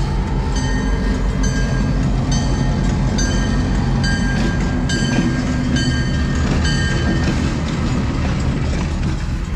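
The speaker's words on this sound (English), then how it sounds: "never have I ever even thought that a train would come through here" A train rolls past on a rail line that was thought to be inactive: loud, close and constant rumbling with rhythmic clickety-clack from the wheels, unbroken for nearly ten seconds.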